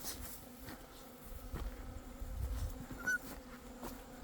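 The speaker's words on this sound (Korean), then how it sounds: "자, 여기도 지금 전부 다 도봉입니다." Drone honeybees swarm at a hive, a steady dense buzzing hum, close and fairly soft, with a few louder passes by single bees and no talk.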